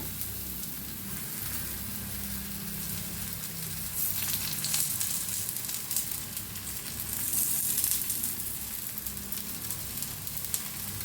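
Dhapate flatbread fries in ghee on a hot pan, giving a steady, close sizzle with soft crackling that swells slightly midway, with no talking.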